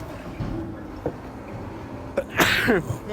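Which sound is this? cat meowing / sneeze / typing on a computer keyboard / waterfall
sneeze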